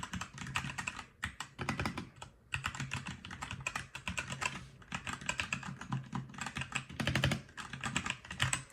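Typing on a Machenike wireless 60% mechanical keyboard, fairly loud bursts of rapid clacky keystrokes close up, with brief pauses between runs and no talking.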